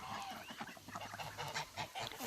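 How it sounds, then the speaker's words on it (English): Ducks, or young geese grown to full size on a farm walk, honk and quack in a close, busy flurry of overlapping calls that continues for a couple of seconds. "They're full-on ducks at this point."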